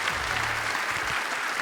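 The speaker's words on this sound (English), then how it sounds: "Let's give it a round of applause for that" Steady, full applause from a crowd at a cosplay contest, dense clapping sustained throughout without pauses.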